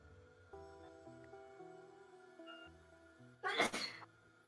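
Another sneeze from a person in the background, one short loud burst near the end over a quiet room hum.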